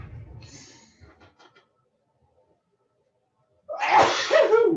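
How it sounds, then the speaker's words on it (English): A quiet breathy build-up and a pause, then one loud, sharp sneeze bursts out close by. "Getting ready to sneeze, hang on."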